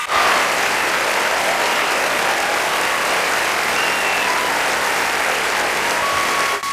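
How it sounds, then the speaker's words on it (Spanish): Audience at the Oscars ceremony applauding, a dense, steady wash of clapping that stays loud and continuous throughout. "Míralo aplaudiendo."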